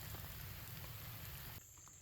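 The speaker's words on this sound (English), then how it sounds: "And of course it's raining again, so I'm not going to put the tent up yet." Rain patters steadily on surfaces at a riverside campsite in a sycamore grove by the Mississippi River, a faint, soft wash that drops a little near the end.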